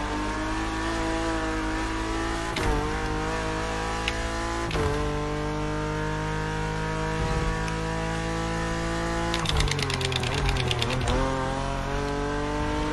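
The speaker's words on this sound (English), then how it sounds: "Rumble strips, onto the rumble strips and drifting around the corners." A car with paddle-shift gears and a seven-speed gearbox drives hard, its engine holding a steady droning note. Near the end a rapid buzzing rattle from rumble strips cuts in, then the engine drone carries on.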